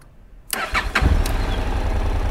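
A Honda NC 750X motorcycle with a recently discharged battery cranks briefly after a moment of quiet and catches, settling into a steady, loud, close idle.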